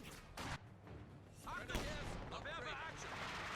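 Bursts of gunfire and thudding impacts from a World War II battle in the strategy game Company of Heroes 2, a German MG34 machine gun among them, layered over ongoing battle noise.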